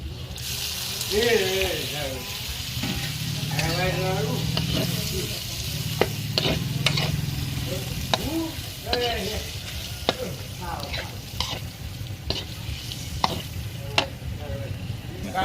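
Shrimp stir-fried with curry paste in a pan for a spicy Thai shrimp and sator bean stir-fry, sizzling and scraping steadily throughout with stirring clicks, while someone speaks briefly over it.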